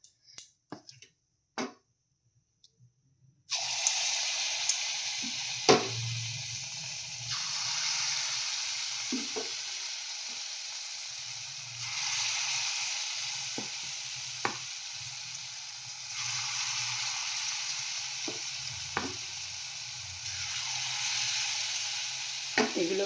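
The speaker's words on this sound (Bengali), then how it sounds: "আমি উল্টে পাল্টে এগুলো ভেজে নিলাম।" Chana dal laddus fry in hot oil on a low gas flame, a steady sizzle that starts after a few quiet seconds, broken by sharp clicks and taps as the sweets are turned over in the pan.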